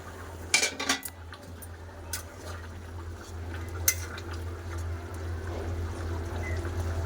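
A pot lid comes off a paneer curry, a few sharp metallic clinks and clatters at the start, then a softer steady bubbling simmer underneath.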